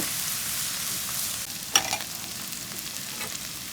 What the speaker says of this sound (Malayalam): അപ്പോൾ ഇഞ്ചി വെളുത്തുള്ളി കൂടി ചേർത്ത് കൊടുക്കുക